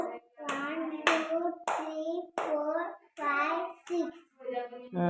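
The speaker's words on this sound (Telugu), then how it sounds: "6 క్లాప్స్ కొట్టు." A young child claps six times at a steady, unhurried pace, close by, with a voice sounding over the claps.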